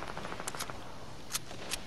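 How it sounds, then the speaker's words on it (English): A few short, sharp bursts of gunfire from a Fortnite match crack out at moderate distance over a low background hum, with quick gaps between shots. "More shooting over there."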